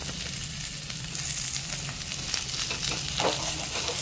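Amla being stirred in a pan with about 200 grams of sugarcane jaggery for amla morobba, a steady close sizzle with soft scraping stir sounds throughout, no talking.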